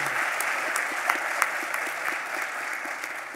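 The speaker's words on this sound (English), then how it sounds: "please help me thank Dr. Kaku and Mr. Trabzuni with a great loud applause for their great presentation." Steady applause from a lecture-hall audience after a science talk and open discussion session, dense clapping throughout with a few sharper claps standing out, fairly distant and without speech.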